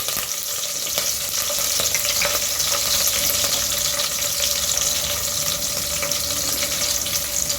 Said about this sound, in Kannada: ಕರಿಬೇವನ್ನ ಹಾಕ್ಕೊಳ್ತಾ ಇದ್ದೀನಿ.